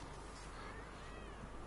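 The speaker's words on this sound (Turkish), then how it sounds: "Bak kedi sesleri geliyor bir yerden." A cat in The Witcher 3: Hearts of Stone gives a few faint, distant meows, barely rising above a steady wash of background game ambience.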